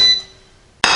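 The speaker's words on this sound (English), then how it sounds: "I'm going to close my Power Air Fryer Oven Elite up." The door of a Power Air Fryer Oven Elite shuts with a sudden close clack after a short ringing metallic tone fades, the impact loud and abrupt.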